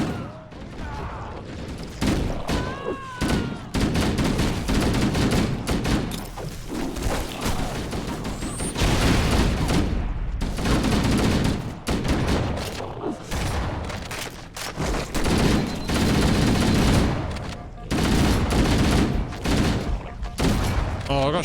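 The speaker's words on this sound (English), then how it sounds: "Oh, I got shotgunned." Gunfire rattles through a round of Halo Combat Evolved, with loud, dense bursts of shots and crashes repeating almost continuously over roughly twenty seconds of busy action noise, shotgun blasts among them.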